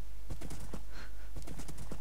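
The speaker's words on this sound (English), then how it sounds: "And another horse has just spawned over here" Horse hooves clip-clop in a steady uneven rhythm of close, hollow knocks within a video game, over a constant low background hum.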